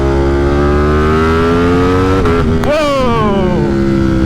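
A tuned motorcycle under hard acceleration, its engine note climbing loud and close, then a brief dip around a gear change and another rising rev.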